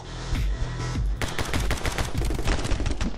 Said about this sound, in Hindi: ज्यादा गोलियां नहीं मारने का भाई साहब